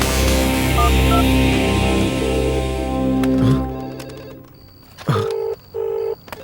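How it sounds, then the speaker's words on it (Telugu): A telephone rings nearby in a dubbed Telugu film scene: a dense tonal music-like bed fades out, then two distinct electronic ring bursts sound loud and close. "అవును, ఇక్కడే ఇక్కడ పక్కన రింగ్ అవుతుంది"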